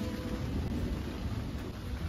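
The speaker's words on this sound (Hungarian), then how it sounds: "Szóval elkapott minket a vihar" A thunderstorm at a lakeside campsite by Lake Balaton, with steady broadband rain and rumbling thunder filling the whole short stretch loudly and continuously, no voices.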